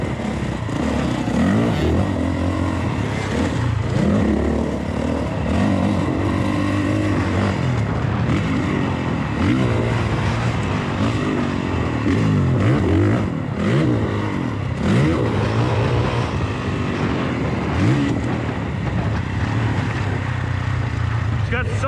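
A motorcycle engine drones steadily while riding a rough trail in third gear, with wavering revs and wind rumble throughout and a rider talking over it.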